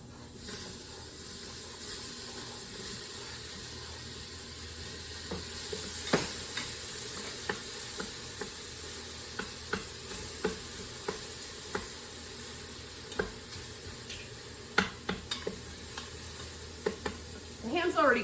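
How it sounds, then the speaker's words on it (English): Ham sizzles in a pot with leeks as a utensil stirs it, giving a steady frying hiss broken by repeated scraping clinks that grow more frequent toward the end. "I'm gonna throw the ham in."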